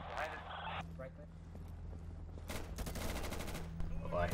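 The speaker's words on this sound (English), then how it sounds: "Oh, I hear gunfire." Rapid bursts of gunfire crackle during an online shooter game, a dense rattling volley in the middle, with a player's voice and game sounds around it.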